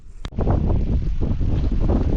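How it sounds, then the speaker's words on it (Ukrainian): Gusty wind buffets the microphone outdoors in a raspberry patch in a steady low rumble, with a brief sharp knock near the start. "Вітер сьогодні такий"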